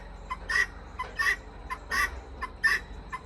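Several short, repeated clucking alarm calls from a chicken, fairly close and moderately loud, coming in quick bursts with brief pauses between.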